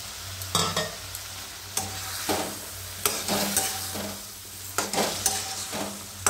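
Fried tinda (apple gourd) stirred in a hot pan, with repeated scraping stirs over a steady low sizzle, close and moderately loud, no talking.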